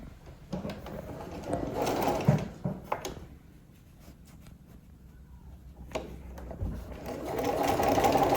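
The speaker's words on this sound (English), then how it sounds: "And sew directly on the top of that line that we drew." A sewing machine stitching along a drawn line on a fabric quilt block square, a rapid whirring hum in two bursts near the start and end, with quieter handling sounds between.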